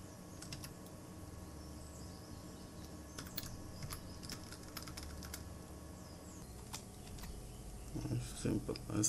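Quick bursts of computer keyboard typing, faint clicks in short irregular runs, with a voice talking in the background and a louder bump of handling near the end.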